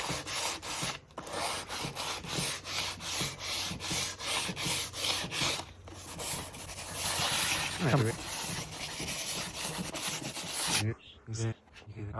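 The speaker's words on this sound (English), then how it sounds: "I'm gonna have to do this by hand by the 80 grade sandpaper, just like that." Coarse 80-grit sandpaper worked by hand across an antique oak desk, giving close, steady back-and-forth rasping strokes in a continuous rhythm, with a voice occasionally audible beneath.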